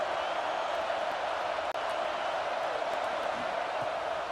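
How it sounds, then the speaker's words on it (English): Ohio State home stadium crowd in a college football video game, a steady broad roar of cheering fans on third down, loud and continuous with a brief dropout midway. "The Buckeye crowd alive on 3rd down."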